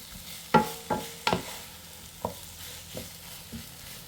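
Beef simmering in coconut milk is stirred in the pot, with a series of close scraping clacks of the spoon every half second or so over a soft, constant bubbling sizzle.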